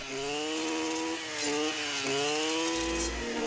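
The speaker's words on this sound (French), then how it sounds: "L'outil fauche littéralement ces types de végétation." A brush cutter tears through dense undergrowth, its engine whining at a high pitch that dips and rises as it bogs into the vegetation, close and loud with no voices.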